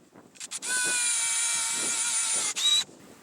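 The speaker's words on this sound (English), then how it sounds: "I'm going to drill an additional hole in the can opener itself" A power drill bores a hole through the back of a metal can opener, whining steadily and loud for about two seconds after a couple of short starts, then a brief higher-pitched burst at the end.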